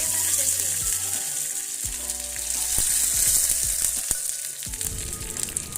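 Two dried red chillies and a sprig of curry leaves crackle and sizzle in hot oil as a tempering for Kerala moru curry, with a bright continuous hiss and scattered pops close by.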